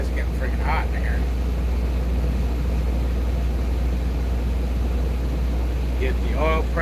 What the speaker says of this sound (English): Let's idle this truck for a little bit.